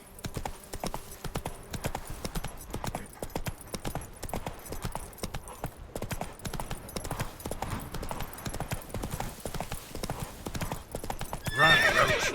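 Roach, a horse in The Witcher 3 video game, gallops in a steady rapid run of hoofbeats, loud and close, with a short whinny near the end.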